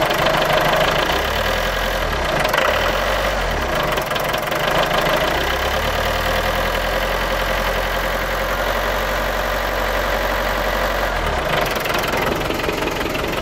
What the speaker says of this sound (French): Et puis direct il tient beaucoup mieux le ralenti.